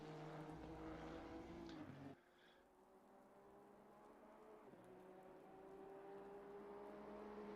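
Rain falling on the track at Monza in an F1 racing video game: a soft, steady hiss under droning car engine tones that drop out briefly and then return.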